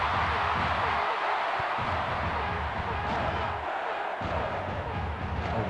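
Stadium crowd noise from the N64 game FIFA Soccer 64, a steady dense roar of cheering that swells around a tackle, with brief dips, continuous and fairly loud throughout.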